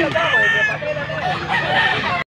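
A quality rooster from Pampanga crows loudly and close by, one long, full crow that fills the moment and then cuts off abruptly.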